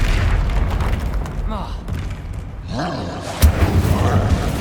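An Incendio fire spell from Hogwarts Legacy, cast during a fight with a mountain troll, bursts out as a loud, rumbling whoosh with booming impacts, layered over continuous game combat noise and some shouted voices.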